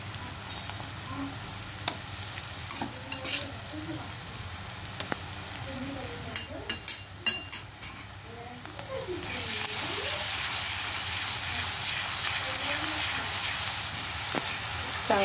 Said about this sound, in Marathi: चांगली तेलावर परतून घ्यायची, नाहीतर मग लसणाचा उग्रट असा वास येतो।